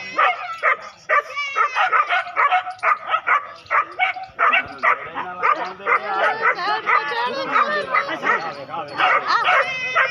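Several dogs hunting a porcupine bark and yip in rapid, near, repeated bursts, with excited yelps and whimpers running throughout and people's voices mixed in.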